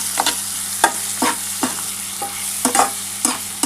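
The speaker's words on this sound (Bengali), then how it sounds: "এবার আমি টমেটোটা দিয়ে দিলাম।" Chopped tomatoes are stirred into onions frying in oil for a mutton curry, with a spatula scraping the pan in irregular strokes over a steady close sizzle.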